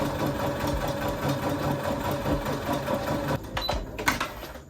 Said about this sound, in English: now I can go ahead and start to sew the dart